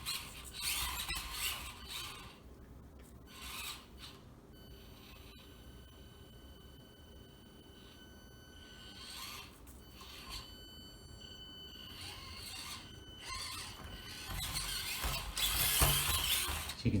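An SCX24 RC crawler with brass portal axles runs its motor and gears on high, giving a faint, thin mechanical whir and gear chatter that rises and falls in short bursts, growing louder toward the end.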